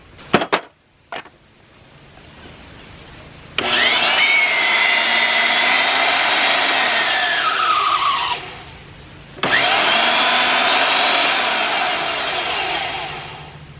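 A Delta table saw motor, just fitted with a repaired seized bearing, starts up, whines steadily for several seconds with a falling pitch as it winds down, then restarts and runs on; a few sharp knocks come before it.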